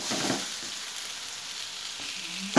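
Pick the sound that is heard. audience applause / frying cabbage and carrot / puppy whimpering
frying cabbage and carrot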